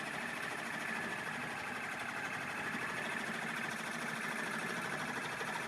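An embroidery machine stitches a towel at high speed, producing a steady, even mechanical whir with a fast buzzing stitch rhythm, constant in level throughout.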